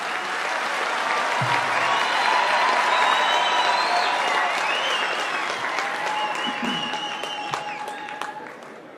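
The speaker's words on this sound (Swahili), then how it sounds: "Karibisheni hapa makofi." An indoor crowd at the Bomas of Kenya event releasing the BBI report applauds to welcome the Deputy President, a dense sustained clapping that swells and then tapers near the end, with faint voices underneath.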